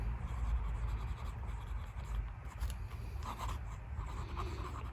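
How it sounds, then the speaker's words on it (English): A fountain pen with a flex nib, filled with Waterman Serenity Blue ink, scratches steadily across paper with faint feedback, a soft continuous rasp over a low background hum. "this nib is just sort of writing. The ink flow in this mode is pretty good. It's not the smoothest, there's a little bit of feedback there"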